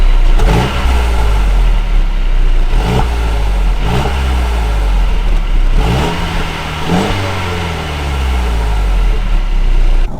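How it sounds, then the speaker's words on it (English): A 2018 Mercedes-Benz C300 in Sport Plus mode revving repeatedly, several loud rising engine blips close by, each climbing then falling back toward idle, with no talk. "Let's give it some revs."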